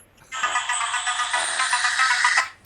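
A phone ringtone playing a TV theme rings out loud and close, a bright electronic melody running for about two seconds before cutting off.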